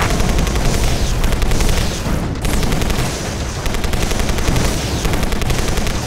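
Dense, continuous gunfire and booming explosions from the video game Anomaly Warzone Earth, a loud, unbroken barrage of rapid shots and blasts with no speech.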